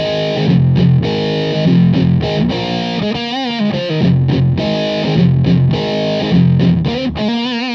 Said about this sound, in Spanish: vamos a escuchar en la posición JHS, que es la versión 2015 que JH hace de su propio Big Muff